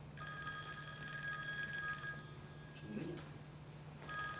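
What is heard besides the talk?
telephone ringing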